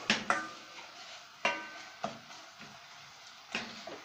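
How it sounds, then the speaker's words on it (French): A spoon stirs homemade curry in a pot, making a few sharp scrapes and clinks spaced irregularly over a faint background, close and fairly quiet. "On touille."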